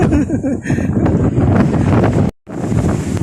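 Strong wind blasts across the microphone near the sea, a loud, gusty roar with low rumbling bursts, broken by a short sudden cutout before the rush resumes.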